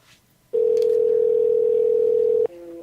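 A steady telephone dial tone on a live radio show before a call connects: one loud, unbroken tone lasting about two seconds, followed by a quieter two-note tone.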